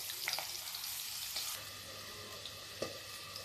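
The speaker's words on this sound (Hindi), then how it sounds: "देखिए सुनिए, पट-पट की आवाज़ आ रही है।" Close, steady sizzling of chickpeas frying in hot oil in a kadhai, broken by a few sharp pops and crackles as they burst, with no voices.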